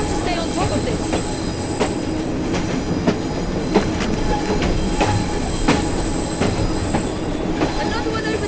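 A train runs in the video game Assassin's Creed Syndicate, with a steady rumbling roll and rhythmic metallic clicks and squeals from the wheels, loud and continuous throughout.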